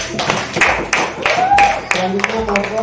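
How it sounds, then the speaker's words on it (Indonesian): Classroom of fifth-grade pupils clapping for a group, bursts of hand claps mixed with children's voices and a teacher talking over them. "ya, tepuk tangan untuk kelompok 1."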